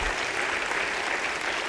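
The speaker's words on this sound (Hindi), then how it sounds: "मैं चाहता हूं एक बार तालियां उस परमपिता परमेश्वर के लिए हों" Dense, sustained applause from a seated audience at a motivational speech event, loud and even throughout with no voices on top.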